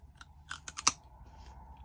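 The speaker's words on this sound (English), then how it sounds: "chewing on a carrot and thinking" Someone bites and chews a raw carrot up close, making a short run of crisp crunches that builds to one sharp, loud snap over a quiet room, with no speech.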